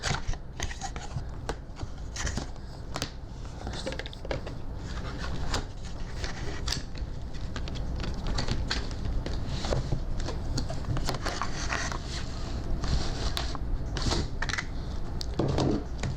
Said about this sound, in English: let's start off by unpackaging it from the right side here.